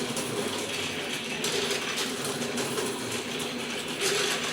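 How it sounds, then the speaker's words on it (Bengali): An automatic transformer coil winding machine rotating, giving off a steady mechanical ratcheting and whirring with gear clatter. The sound runs continuously at an even level and is heard alone. "মেশিন কিন্তু অটোমেটিক ঘুরবে"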